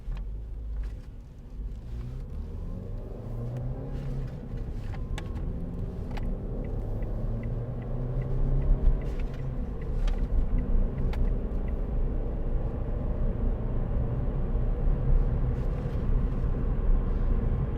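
A 2010 Ford Fiesta 1.4 Titanium five-door with a five-speed gearbox drives along, its engine a steady low rumble with rising tones as it accelerates, heard from inside the car without talk.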